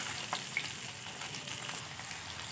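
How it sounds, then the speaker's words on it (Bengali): Fish frying in oil in a pan, a quiet, even sizzle with light crackles throughout, close but faint, and no one speaking. "মাছটা আমার উল্টে পাল্টে ভালো করে ভাজা হয়ে গেছে"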